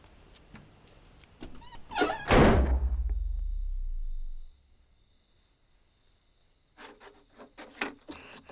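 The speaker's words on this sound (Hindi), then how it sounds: "दरवाजा बंद कर।" A door is shut in a tense scene from a Hindi-dubbed action film: one heavy thud with a low rumbling tail, followed by near silence and a few faint small sounds.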